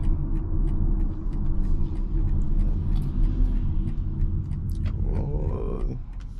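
A 2024 BMW X3 with the M package cruises along a Florida road, its low steady engine and road rumble filling the cabin throughout, with a brief extra swell of noise near the end.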